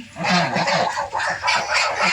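Chinese ducks quack loudly and repeatedly, close up, with harsh honking calls overlapping one another in a continuous flock chorus.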